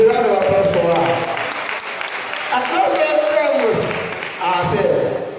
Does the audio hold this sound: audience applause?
yes